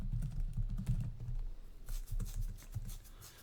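Code is typed on a computer keyboard in quick, close bursts of light key clicks, then a short pause and a few more scattered taps.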